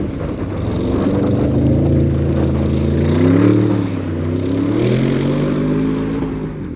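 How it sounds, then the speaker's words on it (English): Audi RS 6 V8 engine roars steadily under load, with a deep rumble that rises in pitch, eases off and climbs again, heard from close by with no talk. "you can hardly hear that V8, but when you put it in the right modes, oh wow, yeah, much better sound than you get out of the M3"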